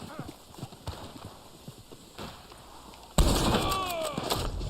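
Hooves clip-clop from a horse in the video game Red Dead Online under a player's speech, then a loud thump and rumbling impact as the horse runs the player over.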